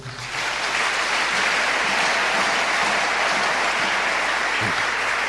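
A church congregation bursts into sustained applause, a dense, even roar of many clapping hands that swells in quickly and holds steady throughout, with no speech over it.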